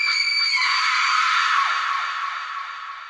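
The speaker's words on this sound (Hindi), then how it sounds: "फिर वो लेडी एक लास्ट टाइम चिल्लाई" A woman lets out a long, shrill, high-pitched scream that holds steady and then slowly trails off over about three seconds, loud and alone with no other voices.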